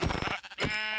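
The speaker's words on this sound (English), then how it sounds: "Oh, look, we got sheep right here." Sheep bleating in the Minecraft video game, a couple of short wavering calls close together, followed by a steady tonal game sound with no talk over it.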